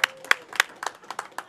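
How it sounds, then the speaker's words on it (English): Small audience at Lita Lanes candlepin bowling alley in Nashua, New Hampshire, clapping to welcome a bowler: a brief scatter of a dozen or so distinct hand claps, close and fairly loud, with no voices. "Let's have a hand for Chris here."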